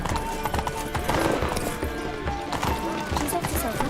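Horse galloping in The Witcher 3 video game, a steady rhythmic clip-clop of hooves running continuously under game music and ambience, with a voice speaking over it.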